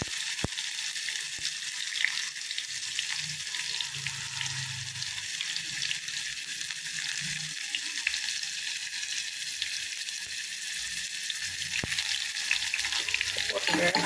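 Onion fries in hot oil with a steady, close hissing sizzle that runs throughout, broken by a few sharp clicks and occasional stirring.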